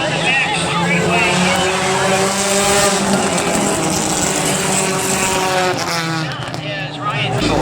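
Four-cylinder race cars roaring around a dirt oval during a night feature event, loud sustained engine drone with shifting pitch as cars pass, under a commentator talking over a public address system.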